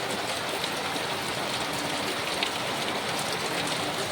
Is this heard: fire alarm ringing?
no